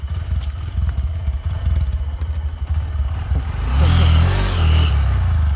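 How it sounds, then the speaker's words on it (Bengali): Motorbike engine idling and ticking over at night, then revving up louder as it pulls away, close and steady throughout. "তাড়াতাড়ি স্টার্ট দে তাড়াতাড়ি ভাই।"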